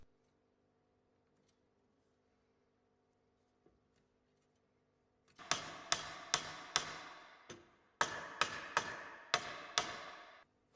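Wooden wedges are hammered into a casement's mortise and tenon joint at the bench: after a quiet start, about a dozen sharp, close mallet blows come in two quick bursts.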